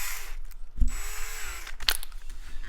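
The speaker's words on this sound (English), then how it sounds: "we're going to actually drill a small hole through" A power drill boring a small hole through the lever of a KLX110 motorcycle, a steady close whirring with a brief sharp catch midway and a second burst near the end, no talk.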